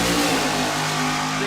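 A small tire shootout drag racing car roars at full throttle down the track, a loud, dense, sustained engine blast with no break.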